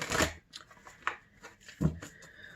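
Tarot cards are shuffled close by in a few short, papery bursts with brief pauses between them, quiet and free of talk.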